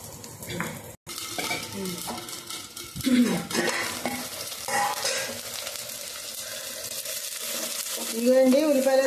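Onions fry in a pan, with a busy, close sizzle and repeated scraping and clanking of a spoon against the cookware, some louder stirring bursts near the start and end.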